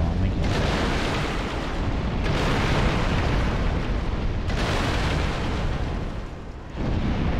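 Explosions in the Dark Souls 2 video game at Brume Tower, a dense, loud, continuous roar of rumbling blasts with a few abrupt shifts and a brief dip near the end.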